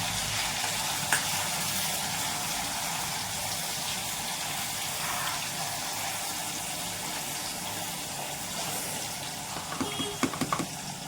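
Ginger, garlic and green chilli paste frying in hot oil with curry leaves for pav bhaji, a dense, steady sizzle close by, with a few clinks and stirring scrapes near the end.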